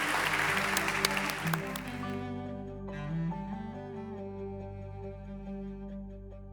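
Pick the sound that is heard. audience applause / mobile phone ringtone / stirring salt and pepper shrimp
audience applause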